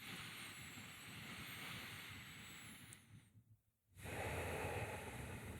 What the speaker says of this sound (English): just take a few breaths and through the nose